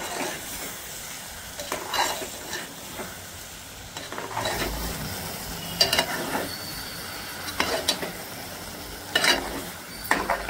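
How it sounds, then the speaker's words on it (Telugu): Brinjal masala curry being stirred in a pan, with steady scraping and sizzling of frying spices plus intermittent sharper spoon clinks against the metal, close and moderately loud with no talking. "ఇప్పుడు బాగా కలిపుకుందాం"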